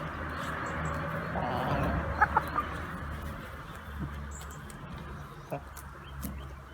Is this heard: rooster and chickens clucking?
yes